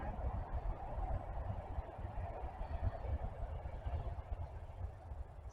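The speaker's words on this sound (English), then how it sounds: "Sorry guys, that's just the train." A train rumbles past near a church beside farm fields and woodland, a steady low roar with faint rhythmic clatter, continuous and fairly close throughout.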